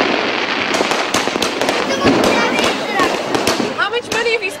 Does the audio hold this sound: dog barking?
no